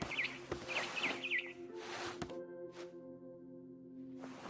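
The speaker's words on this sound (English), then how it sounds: "Then I heard chirping outside my window. It was a barn swallow going back to her nest." Repeated bright barn swallow chirps in short bursts from the video game What Remains of Edith Finch, over a steady low hum and background noise, with a couple of sharp clicks between them.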